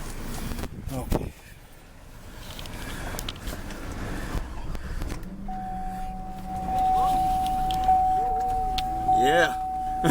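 A Cadillac Escalade engine cranks and then catches, settling into a steady idle hum after a stretch of clunks and shuffling, with people talking over it.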